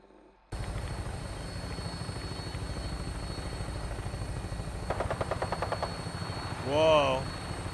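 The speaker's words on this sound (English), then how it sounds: "what kind of vertibird is that?" A vertibird aircraft in the Fallout 4 video game drones with a steady low rotor thrum through most of the clip, beneath louder chattering bursts and a brief rising whine near the end.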